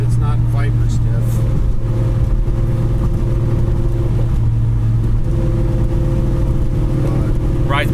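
Car fitted with a swapped Ford Coyote V8 engine, driving with a steady loud low engine drone throughout and people talking over it.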